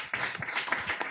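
Applause breaks out for a speaker at a round-table discussion in Terrassa: a dense, continuous patter of many hands clapping, moderately close, with no voices over it.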